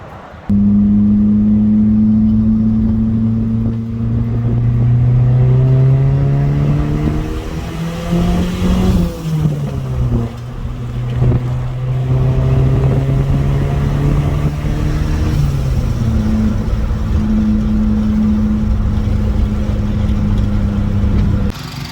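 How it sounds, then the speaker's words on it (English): A nearby Mitsubishi Mirage 4G15 engine with a GT35 turbo and the blow-off valve bypassed, running loud and steady, its droning hum rising and falling through a couple of gentle revs. "bypassing the blow-off valve is also a very nice tone to it, which I'll give you guys a sound"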